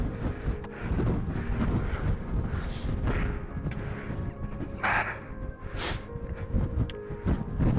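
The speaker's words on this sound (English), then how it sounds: "it's hard to even stand up in this wind." Strong gusting wind buffets a microphone tucked inside a coat on an exposed fell on the Blencathra route, a constant heavy low roar with rising surges that runs through the whole clip.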